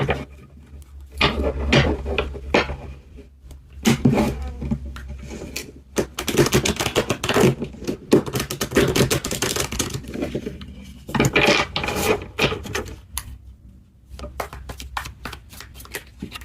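A tarot deck gets one big shuffle, bursts of rapid papery riffling and flapping card noise that rise and fall in several waves, close up, with no one talking.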